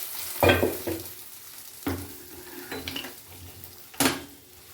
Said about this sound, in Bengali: এবার শুক্তোটা একটু ফুটিয়ে নিই।